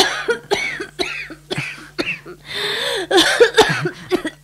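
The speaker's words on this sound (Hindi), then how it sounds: "दादी आपको खांसी हो गई है" An elderly woman coughs repeatedly in harsh, uneven bursts, hoarse and close, with raspy breaths between the fits.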